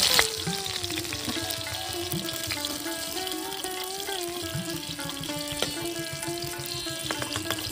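Prawns sizzle steadily in hot oil for a Bengali chingri malai curry, a dense, continuous close-up crackle with faint tonal background music running underneath.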